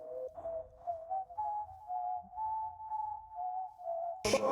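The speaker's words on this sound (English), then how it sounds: "That's just me whistling." A person whistles a tune that sounds like a military march, with a clear melodic line in short phrases. A sharp burst cuts in at the very end.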